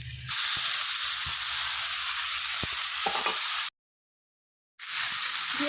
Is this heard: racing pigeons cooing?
no